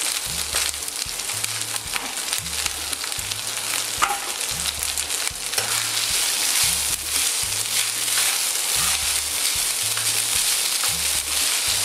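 Broccoli and mushrooms fry in a pan for fried rice with ham, giving a steady, close sizzle throughout. A low, regular pulsing hum runs underneath the frying.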